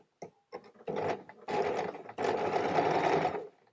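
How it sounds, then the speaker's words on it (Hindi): Domestic sewing machine stitching a folded strip on a nightgown, running in three bursts that lengthen from short jabs to a steady whir, close and fairly quiet, with no one talking. "यहाँ पर इस पर एक दाव वाली सिलाई डाल लेते हैं"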